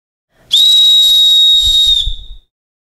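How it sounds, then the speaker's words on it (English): A SafSmart safety whistle gives one loud, steady, shrill blast lasting about one and a half seconds, with a few low breathy thumps near the end. "I will blow into the whistle to activate it."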